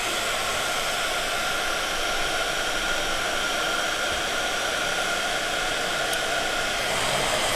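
A heat embossing gun blows hot air in a steady, even rushing hiss that holds unbroken at moderate level, with no talk over it.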